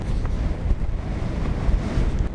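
Strong wind on a hilltop buffets the microphone with a steady, loud low roar and gusting rumble that runs unbroken through the whole stretch, with no voices heard.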